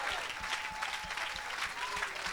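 A congregation at a church service breaks into continuous, dense clapping that fills the whole stretch, with a few voices faintly mixed in.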